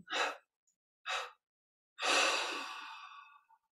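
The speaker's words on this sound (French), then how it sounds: "Puis on prend une inspiration profonde. Expire en 3 fois." Close, quiet breathing during a guided meditation: two short audible exhalations followed by a longer, fading breath out, each separated by silence.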